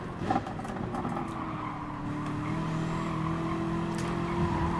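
Aston Martin and other GT race car engines in Gran Turismo Sport at Bathurst whine and drone continuously, with a rising, sustained tone and the rumble of several cars close together.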